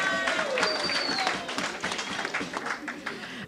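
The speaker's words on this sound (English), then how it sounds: "let's give a round of applause to all our sponsors tonight." Audience at a teachers' union merit awards gala dinner applauding the sponsors, a dense sustained round of clapping that stays loud throughout, with some crowd noise mixed in.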